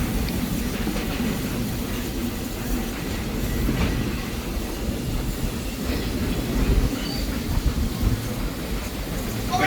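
Magic Kingdom Railroad steam train running at Disney World, a steady rumbling roll of wheels on track with a faint rhythmic clatter, sustained and fairly loud throughout.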